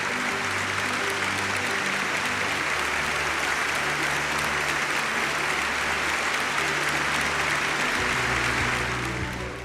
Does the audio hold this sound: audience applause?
yes